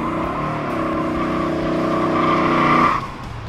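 A 1967 Dodge Coronet R/T with a 426 Hemi V8 screams loudly at high revs with tires squealing, the harmonic engine note climbing steadily for about three seconds before cutting off abruptly.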